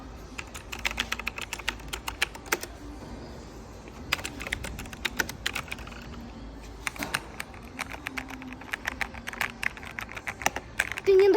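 Someone taps steadily on a computer keyboard at a normal pace, with bursts of crisp, close keystrokes separated by short pauses and faint background noise.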